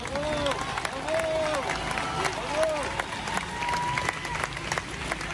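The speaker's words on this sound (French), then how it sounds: "on va applaudir très fort pour l'encourager" An audience claps warmly to encourage Esther, a nervous woman about to give her testimony, with steady, fairly close applause and a voice heard over it.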